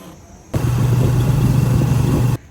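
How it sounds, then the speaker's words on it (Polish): A tuk-tuk on the way to a pier on Koh Lanta cuts in suddenly with a loud, rough motor drone that holds steady for about two seconds and then stops abruptly, with no talking. "wsiadamy sobie na tuktuka i jedziemy na e, przystań"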